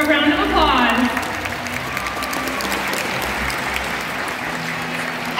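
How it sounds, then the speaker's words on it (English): Audience members applaud at a SeaWorld killer whale show, a dense burst of clapping that starts loud and settles into steady, sustained applause with some crowd noise and a voice over a public address system underneath. "let's give our audience members a round of applause."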